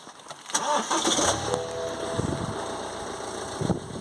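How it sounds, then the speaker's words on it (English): A BMW diesel engine with a broken glow plug cranks briefly and catches, then settles into a steady idle with a low rumble. "So we'll start the car and see how it sounds."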